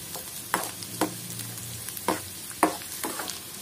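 Garlic fries and browns in hot oil in a pan, a steady soft sizzle punctuated by several sharp scrapes and clinks of stirring at irregular intervals.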